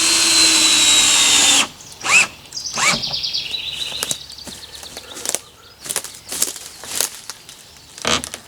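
Power drill with an 11mm socket driving lag screws during shed work, a steady whir for the first second and a half, then short intermittent bursts and clicks of the drill, close and loud.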